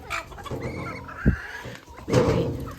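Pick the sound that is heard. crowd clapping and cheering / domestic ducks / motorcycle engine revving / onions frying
domestic ducks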